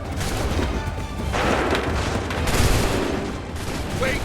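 Musket volleys crack out in Assassin's Creed III, dense overlapping gunfire with booming reports layered throughout, loud and continuous amid battlefield noise.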